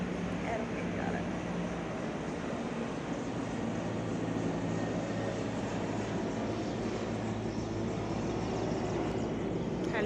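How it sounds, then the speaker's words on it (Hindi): An aircraft passes over a residential area near the Hindon air force base during an evening walk, a steady, distant, broad rumble that holds evenly for the whole stretch without a clear rise or fade. "एरोप्लेन जा रहा है।"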